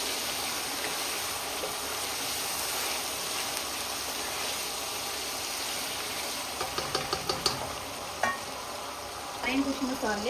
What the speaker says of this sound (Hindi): उसके बाद मैं इसको 2 से 3 मिनट के लिए अच्छे से फ्राई करती रहूँगी